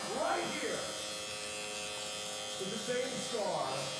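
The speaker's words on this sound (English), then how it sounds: "some people may not like this clipper due to it being a little bigger than normal" A Gamma Cyborg electric hair clipper, a slightly bulky model, buzzes steadily and loudly at close range for the whole stretch, with a voice briefly sounding over it near the start and end.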